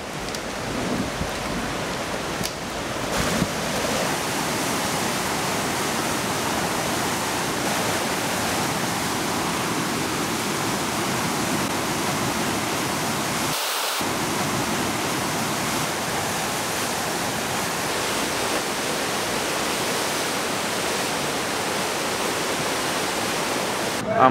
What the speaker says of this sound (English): There is a artificial wave in this park for people who like to surf.